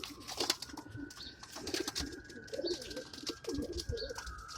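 Pigeons coo softly in an upstate New York loft, their low burbling calls repeating throughout with a few chirps mixed in. A thin steady hum runs underneath, and the birds are near and moderately loud.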